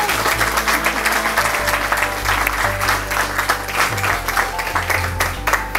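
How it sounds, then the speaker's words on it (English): A room full of people bursts into loud, sustained applause at a hotel grand opening, dense clapping rolling on without pause from start to finish. "Can we have a round of applause for Bill?"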